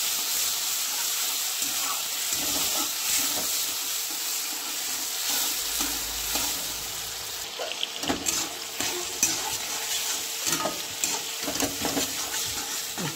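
Tomatoes and spices frying in a pan for goat head curry, a steady hiss of sizzling with scattered crackles and stirring clatter, louder bursts toward the end.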